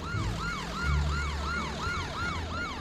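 Ambulance siren in the Roblox game Hospital Tycoon, a wailing rise-and-fall pattern repeating steadily about seven times over a low vehicle rumble, moderately loud and continuous.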